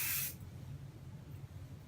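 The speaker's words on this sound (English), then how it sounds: "Use good hairspray." Hairspray bursts from an aerosol can onto hair in one short, loud hiss that cuts off quickly, leaving low room noise.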